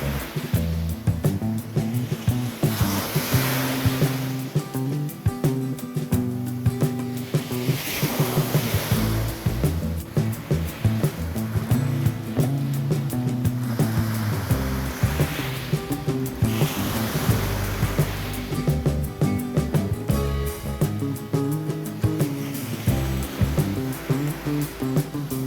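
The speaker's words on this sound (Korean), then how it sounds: "평화롭고 시원한 바다가 함께하는 몽돌해변 광장입니다" Sea waves wash over a pebble beach on the Jeongdong Simgok Sea Bugchae trail in Gangneung: a steady roar of surf with repeated swelling surges and rattling backwash, close and continuous, with no voices.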